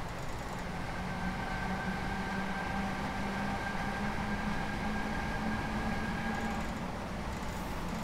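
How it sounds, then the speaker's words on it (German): An S-Bahn train in Train Simulator 2020 creeps slowly into a Cologne station, giving a steady, loud rumble with faint whining tones, continuous and without talk. "Schleicht uns langsam in den Bahnhof rein hier."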